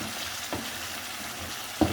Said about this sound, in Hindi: ये थोड़ी देर मैं इनको भूनूंगा